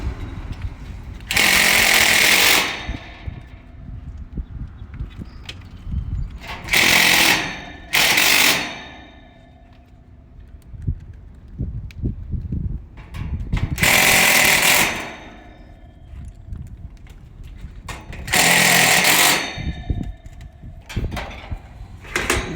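A power tool drives screws to fasten the fan motor of a Rheem 13AJA condenser. It comes in four or five loud whirring bursts of one to three seconds each, close by, with quieter clatter and handling noise between them.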